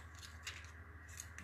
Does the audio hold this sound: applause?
no